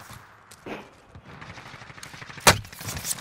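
Call of Duty Warzone gunfire: scattered, fairly muted shots and short bursts at a distance, with one sharp, loud crack standing out near the end.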